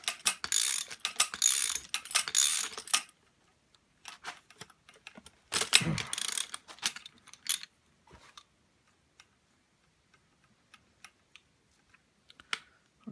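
24mm socket and 14mm spanner undoing the fork top and lock nut on a Honda CB1000R, close ratcheting clicks in short bursts separated by quiet pauses and a few light metallic taps.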